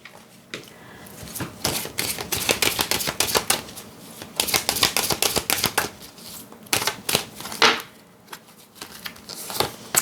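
Tarot cards being shuffled and drawn, with dense runs of crisp flicking, slapping and riffling close up, pausing briefly between bursts, with no talking.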